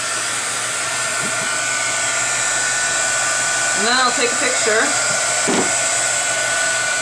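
Steady loud whoosh of a hair dryer running throughout, with a person talking briefly over it midway.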